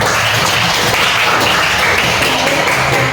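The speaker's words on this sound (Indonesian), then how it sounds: "oke, tepuk tangan buat kita." Schoolchildren in an Indonesian classroom clap together, a loud, dense burst of hand claps filling the room close by, continuing steadily without speech.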